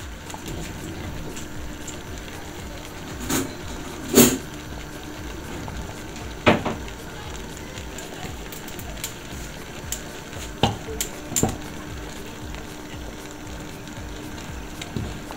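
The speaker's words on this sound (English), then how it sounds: "our uji has been boiling for like 7 minutes now" A pot of thick tamarind porridge bubbles and sputters steadily on the heat, with occasional clinks of a utensil against the pot.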